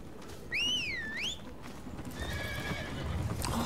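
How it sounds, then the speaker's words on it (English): In the video game Revelation Online, a horse lets out a loud, rising-and-falling neigh, then a fainter second whinny follows over a steady background of galloping hoofbeats. "she gets on a horse to go any distance"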